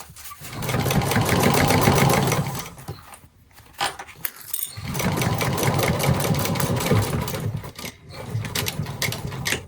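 A sewing machine stitches the gusset lining of a laptop bag to its exterior, in two long, steady runs close by, broken by a short pause with lighter handling noises.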